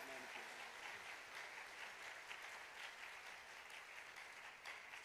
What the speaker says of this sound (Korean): 이 목사님 위해서 한번 뜨거운 박수로 격려해 주세요.